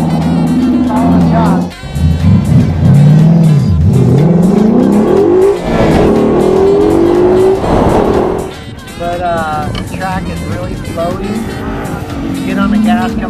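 A race car engine roars and revs loudly during the 2017 One Lap of America, rising and falling in pitch through several accelerations out of turns, with a voice talking intermittently over it.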